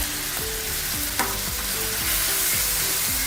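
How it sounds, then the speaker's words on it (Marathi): Marinated paneer with cumin seeds and green chillies sautés over high heat, producing a loud, constant sizzle broken by regular scraping stirs of a spatula in the pan, with no voices. "हे छान असं परतून घ्यायचे."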